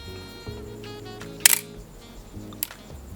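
Nikon F3HP film SLR firing its shutter at 1/60 second: one crisp, close mechanical snap in the middle of a quiet room, followed by a fainter second click.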